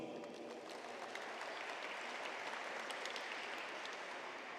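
Steady applause from a crowd at a badminton semi-final opening ceremony, a dense continuous patter of clapping that fills the whole stretch with no talking over it.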